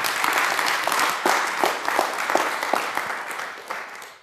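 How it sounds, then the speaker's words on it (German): An audience at a lightning talks event applauds at the end of a short talk, a dense burst of clapping that gradually thins and fades, heard alone without speech. "Insofern dürft ihr jetzt klatschen und ich höre auf zu reden."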